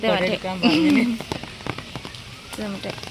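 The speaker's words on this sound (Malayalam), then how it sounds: "ഒന്നാമത് മഴയാണ്" Rain patters steadily in the background while a person speaks over it, with broadband hiss and scattered drop-like ticks.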